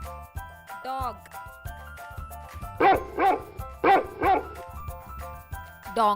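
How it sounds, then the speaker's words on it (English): A cartoonish dog barks in two doubled pairs of loud, bright woofs, set over a bouncy children's music bed with a whooping sound effect earlier on. "Dog,"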